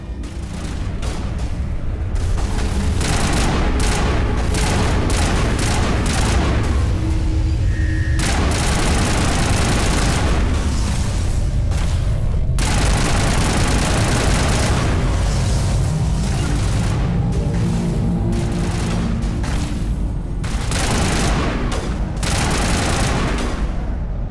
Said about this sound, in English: Oh crap, I'm being shot at.